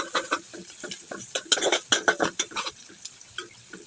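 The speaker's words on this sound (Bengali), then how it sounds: "পেঁয়াজটাকে ভাজা ভাজা করে নেব" Onions frying in a pot, sounding as a run of quick scraping stirs and spatula clinks over a light sizzle, close and rhythmic.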